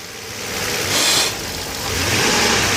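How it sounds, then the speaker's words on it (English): A Mercedes V12 car engine with a faulty mass air flow sensor runs loud and close, surging briefly then sagging and stumbling before picking up again, as if close to stalling. "as you can see, the engine almost stalled out"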